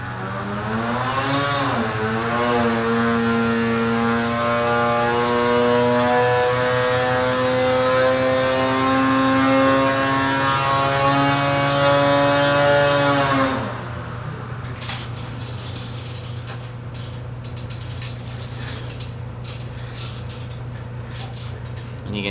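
A Polaris 850 Axys two-stroke snowmobile engine with a Stage 1 setup screams on a dyno, its pitch rising steadily to a loud high-rev peak before cutting off sharply, leaving a steady background hum and faint clatter.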